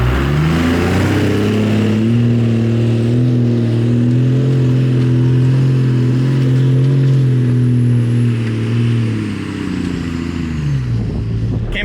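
A homemade ranch fire truck grinding up a steep hill in two-wheel drive, its engine droning loud and steady under strain for the whole climb, easing slightly near the end.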